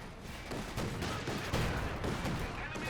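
Ground fire in a Master League 3 Chaos Krieg tournament match, aimed at a mortar crew. A rapid fusillade of overlapping gunshots and machine-gun bursts rattles steadily, fairly loud, with faint commentary underneath.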